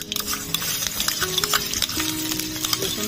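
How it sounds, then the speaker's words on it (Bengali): Chopped garlic fries with dry red chillies and nigella seeds in hot oil, a steady close sizzle with scraping stirring strokes and light clinks of the pan, no talking. "রসুনটা হালকা ভেজে নেব"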